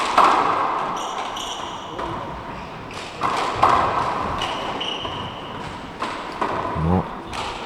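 Handball strikes and bounces off the court walls during a women's final at the Irish 4-Wall Nationals, sharp thuds landing at intervals under a commentator's ongoing talk and crowd murmur.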